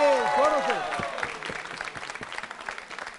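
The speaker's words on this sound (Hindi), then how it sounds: "तालियां जोरों से बजाइए, जोरों से।" Audience at a Diwali quiz show clapping loudly, a dense burst of applause that slowly thins into scattered claps while a voice talks over the start.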